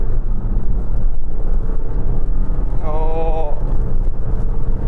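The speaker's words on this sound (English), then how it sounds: "Finally, let's test the acceleration of this 2-litre diesel in this D200." Range Rover Velar D200 with a 2-litre diesel launched hard from 0 to 60, a loud steady engine roar with a quick gear change partway through, and a brief exclamation over it.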